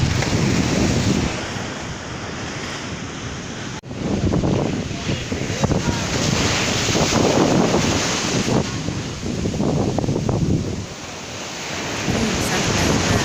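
Strong sea waves surge and crash along the Turkish coast at sunset, a continuous loud roar with repeated swells, buffeted by wind rumbling across the microphone.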